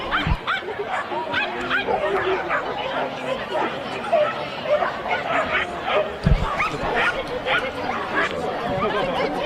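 Dogs bark and yip repeatedly at a small-dog agility competition, including a Jack Russell Terrier, mixed with crowd chatter and commentary voices in a busy, echoing arena.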